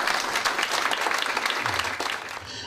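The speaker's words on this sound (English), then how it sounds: "I'd like everyone to give Jerry Piggott a round of applause for handing me that." Audience applauding at a launch event, with steady, dense clapping from a crowd that continues throughout and eases slightly toward the end.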